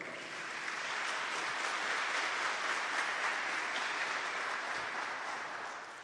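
An audience at a religious talk claps together, a broad wash of applause that swells in, holds steady and tapers slightly at the end.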